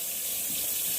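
Cold water runs steadily from a kitchen tap into a sink, a constant close hiss and splash with no voices.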